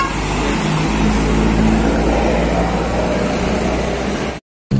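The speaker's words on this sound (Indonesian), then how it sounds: "Melintas ini bus medium Grand Star Holiday." A Grand Star Holiday medium tour bus drives past on a Ciamis road, a loud continuous engine and road rumble that holds steady and then stops abruptly near the end.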